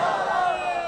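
A crowd at a religious gathering in Layyah shouts a slogan together, a brief loud massed roar of voices heard up close, sustained for under a second.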